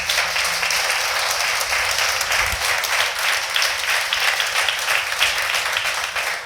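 Loud, sustained clapping from a church congregation during a Sunday service, dense and steady with no break for the full stretch.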